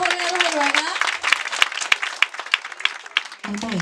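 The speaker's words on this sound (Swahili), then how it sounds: "Tuwapigie makofi mazuri." Church congregation applauding, a scattered burst of clapping that follows a voice and fades before another voice returns at the end.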